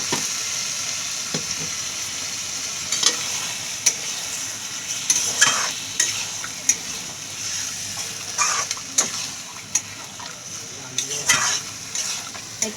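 Marinated chicken frying in hot oil in a kadai, a steady bright sizzle with scattered clicks and scrapes of stirring, close and fairly loud throughout.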